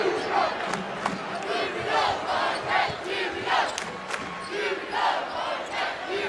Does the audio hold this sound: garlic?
no